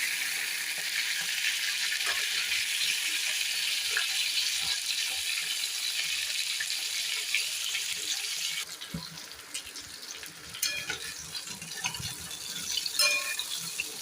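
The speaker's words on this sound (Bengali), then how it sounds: "আর একটুখানি ভাজা হবে পটলটা আমার" Pointed gourd (potol) pieces frying in oil in a pan, a steady bright sizzle that softens partway through, with occasional clinks and stirring scrapes.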